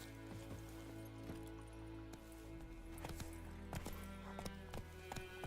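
Roach the horse gallops in The Witcher 3, a steady run of hoof clip-clops over game music and ambience, moderately faint and evenly paced throughout.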